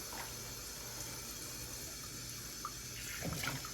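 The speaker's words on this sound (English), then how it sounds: "Let's see how he does with the water pouring over him." Water running from a tap or sprayer over a red sable poodle puppy during a grooming bath, a continuous steady flow heard close up, with no talking.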